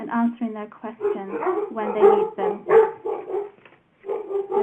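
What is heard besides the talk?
dogs barking in the background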